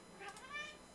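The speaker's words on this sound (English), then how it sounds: "Yeah, you can hear them meowing." Cats meow for treats, a quick faint pair of mewing calls within about a second.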